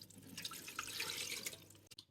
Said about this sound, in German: Jetzt kommt auch noch Wasser dazu